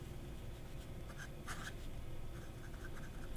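A fountain pen with a medium number 8 nib writes on paper, a faint, steady scratching across several seconds with a brief firmer stroke in the middle, close and quiet over a low background hum.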